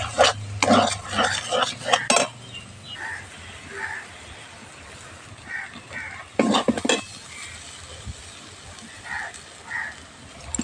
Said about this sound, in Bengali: এইভাবে করে নেড়ে নেড়ে আস্তে আস্তে শুকনো করে নিতে হবে।